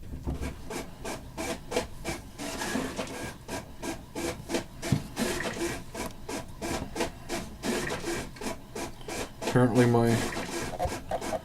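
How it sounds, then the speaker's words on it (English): An office printer churns out copies with a rhythmic, repeated rubbing and rasping feed noise, pulsing steadily with a brief louder mechanical whir near the end, while a person talks over it. "that's the printer printing"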